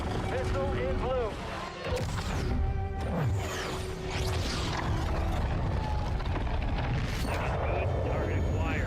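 Missile launch in a studio sim game, a dense roaring rush with crashing bursts and sweeping tones running steadily through the whole stretch, with voices talking over it.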